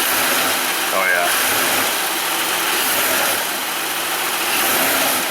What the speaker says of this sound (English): go ahead and give it some throttle there